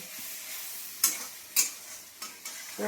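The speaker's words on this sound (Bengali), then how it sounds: "ভালো করে মশলাটা কষে নেব" Masala being stir-fried in a pan for Bengali chicken kosha, with a steady low sizzle punctuated by four distinct scraping strokes of the spatula at roughly regular intervals.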